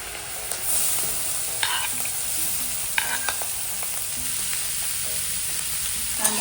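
Onion and green chilli frying in oil for paneer bhurji, a continuous close sizzle with occasional scraping stirs of a spoon against the pan, with no talking.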